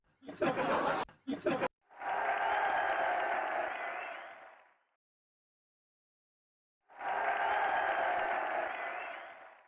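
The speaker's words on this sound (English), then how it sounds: "Yeah, the applause before." Canned applause and laughter sound effect plays during a live stream, two bursts of steady crowd clapping and chuckles separated by a silent gap, preceded by a few short clicks.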